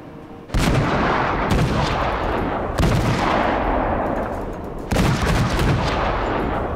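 Naval gunfire from the USA cruiser St Louis in World of Warships: four loud, heavy salvos spaced a second or two apart, each a sharp blast trailing into a long, rolling rumble, with no voices.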